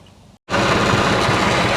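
A farm tractor, used for disking a plowed field, idles with a steady, dense engine rumble close by that starts abruptly after a brief gap and continues loud and even.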